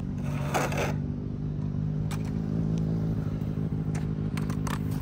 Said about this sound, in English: that is a motorcycle / bike coming onto the skate park